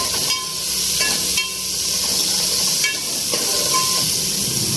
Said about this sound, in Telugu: పచ్చిమిర్చి బాగా వేగిపోయినాయి